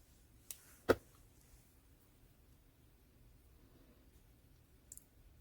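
Scissors snip threads on a quilt: two sharp close clicks near the start, then quiet, then a quick faint double snip near the end, with no talk.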